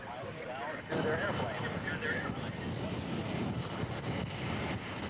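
Airplane at an American air show, a broad steady engine roar holding loud for several seconds with a brief dip near the start, with a public-address voice talking over it.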